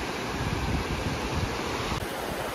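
Sea waves wash steadily over the shore at Shrivardhan beach, a continuous broadband rush of surf with wind noise over it, with no voices.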